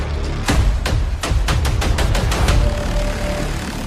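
Rapid gunfire and heavy booming blasts crack out in a dense volley, loud and close over a rumbling background, with no voices. The bombing is over Caracas at night.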